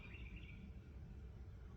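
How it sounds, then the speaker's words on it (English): Wild birds including red-winged blackbird, robin, goldfinch and sparrow chirp faintly outdoors over a steady low background rumble, a short high call standing out near the start. "there are like 10 birds out here"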